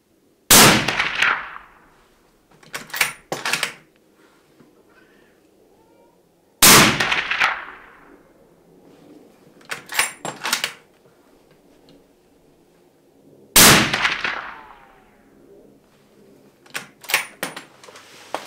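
Three loud, sharp 300 Win Mag rifle shots with hunting ammunition ring out several seconds apart outdoors, each followed by a decaying echo and a quick pair of metallic clicks from the action.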